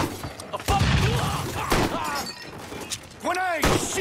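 A grenade explodes amid a gunfight in Mafia III: a loud, close blast with shattering debris, surrounded by gunfire bursts and shouting voices.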